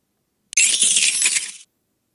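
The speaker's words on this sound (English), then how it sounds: "I'm thinking of like jingling keys, and there is a key Pokemon." Klefki's cry from a Pokémon video game, a bright metallic jingle like a ring of keys, one burst of about a second that starts abruptly and stops cleanly against silence.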